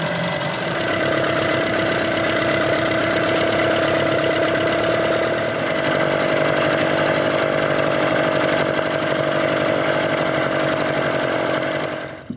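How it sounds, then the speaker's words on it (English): An outboard motor idles steadily after its idle speed has been adjusted, giving a loud, continuous mid-pitched engine drone with a fine rapid pulse that holds evenly for about twelve seconds before cutting at the end. "It's idling now, but I want to see what speed it's idling at."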